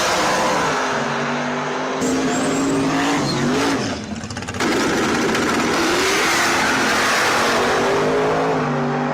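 Race cars roar loudly at close range during a drag race, engines revving and climbing in pitch, with a brief dip and then a sustained full-throttle blast, no talking over it.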